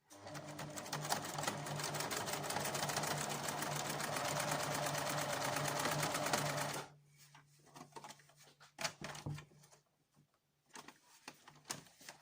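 A sewing machine stitches a one-piece fabric mask 1 cm from the edge with rapid steady needle chatter for about seven seconds, then stops, leaving soft handling noises of fabric.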